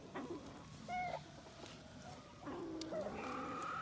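Backyard chickens, including barred rocks, an Americana and a white rock, clucking and giving a few drawn-out calls over a steady outdoor hum, moderately near, with no talking.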